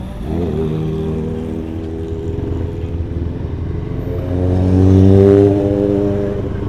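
A large motorcycle passes on a road, its engine drone rising and swelling loudly toward the middle and end as it goes by close.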